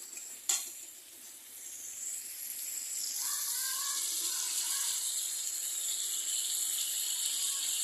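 Hot water is poured into a pan of Bengali chicken jhal curry. A sharp splash is followed by a steady, soft sizzling hiss that continues alone.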